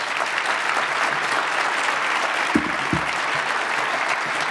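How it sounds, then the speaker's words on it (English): Steady round of audience applause for speakers at an economics conference on climate change and environmental risk pricing, a dense even wash of clapping with a couple of faint low thumps partway through. "we really should give another round of applause for our great speakers"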